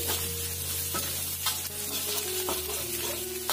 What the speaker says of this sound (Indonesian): Tumis sampai matang